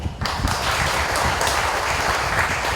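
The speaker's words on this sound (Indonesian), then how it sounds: "Aplaus buat Kang Emil." An audience at a Bandung youth mosque organization's regional assembly bursts into dense, sustained applause. The clapping fills the space evenly from start to finish, with no speech over it.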